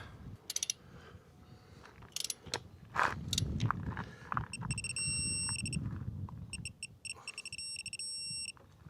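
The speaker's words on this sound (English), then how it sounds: "We get to where we're holding a steady beep, red light, we're good." A half-inch digital torque wrench tightens lug nuts with a few sharp clicks and knocks, then sounds a series of high electronic beeps, including a sustained tone, at set torque.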